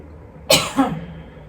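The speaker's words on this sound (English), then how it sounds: "So I think that's what's making me cough right now." A single sharp cough, close and loud, with a brief second burst trailing off into quiet.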